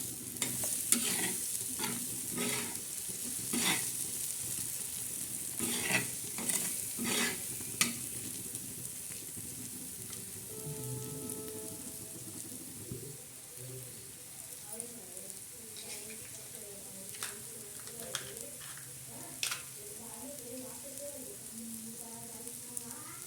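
Scrambled eggs for egg bhurji stir and sizzle in a pan, a steady frying hiss broken by repeated scraping strokes of a spatula, close and fairly loud throughout with no talk.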